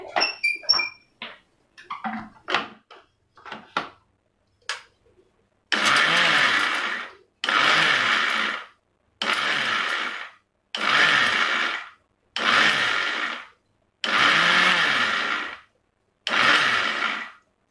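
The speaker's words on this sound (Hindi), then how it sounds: "अभी हमें खाली इसको ग्राइंड करना है।" Mixer grinder blending dry coconut chutney in a kitchen, running in about seven loud, steady whirring bursts of roughly a second each with brief pauses between, after a few short clinks and knocks at the start.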